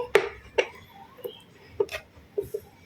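A knife cuts a bar of glycerin soap base into small pieces, making about half a dozen soft, close, isolated chops spaced unevenly.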